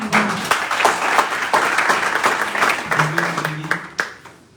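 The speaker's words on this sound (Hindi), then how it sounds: "तो एक जोरदार तालियां होंगी" An audience at a motivational team meeting claps for a speaker, a dense, fairly close round of applause lasting a few seconds, with some voices mixed in.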